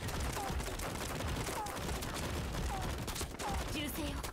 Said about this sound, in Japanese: 銃声よ、気を引き締めて。